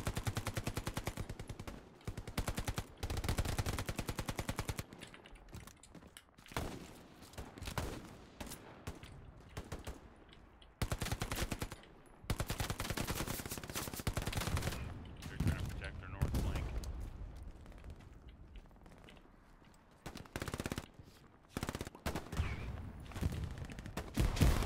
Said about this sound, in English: STGs, machine guns.